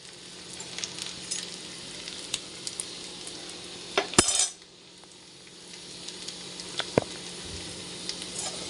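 Shallots and crushed fennel seeds frying in a pan, a steady soft sizzle with scattered stirring scrapes and a brief louder clatter midway, close and continuous.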